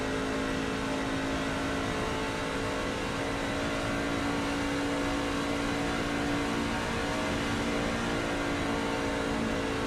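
A race truck engine at Charlotte roars steadily through a corner at full throttle, a loud, continuous in-car drone with a constant high whine and no audible lift.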